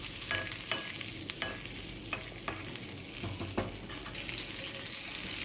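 Whole cumin seeds and ginger paste frying in a little ghee, a continuous close sizzle broken by sharp scrapes and taps of stirring at irregular intervals, no talk.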